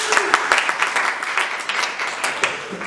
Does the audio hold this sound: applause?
yes